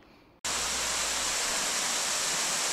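A waterfall in the hills near Kalimpong starts roaring abruptly after a short quieter moment. The rush of water is loud, close and steady, with no voices.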